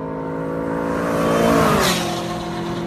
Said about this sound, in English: a video that I'm just gonna leave off with a Miata beating a Lamborghini Aventador